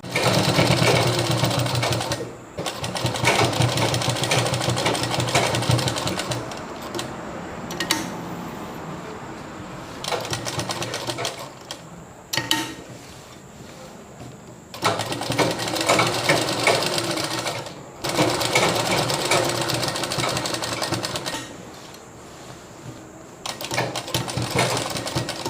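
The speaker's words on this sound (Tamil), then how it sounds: "அதை இப்படியே திருப்பி விட்டு இந்த இடத்துல நீங்கள் ஒரு பதிவு தையல் போட்டுருங்க" Sewing machine stitching a small dress for a goddess idol, long runs of steady rapid mechanical whirring broken by brief pauses, loud and close with no talking.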